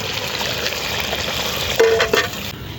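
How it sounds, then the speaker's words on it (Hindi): Lentils stirred and frying with mutton in a pot over high heat, a steady low sizzle with a few scraping stirs near the end, no talking. "ये थोड़ा सा मैं इसको भून लेती हूँ गोश्त में डाल के दाल को"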